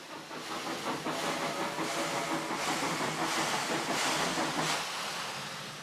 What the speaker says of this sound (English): Then, in the background, the train which we'd followed by taxi leaves for Verpa.